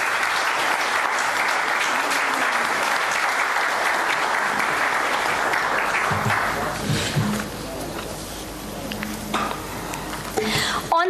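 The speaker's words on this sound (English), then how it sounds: "I would like to request the audience to give him a big round of applause." Audience applause at a book release event for senior advocate Vivek Sood's book Chaff and Grain: dense, sustained clapping from a large crowd for about six seconds, thinning into scattered claps with some voices and movement afterward.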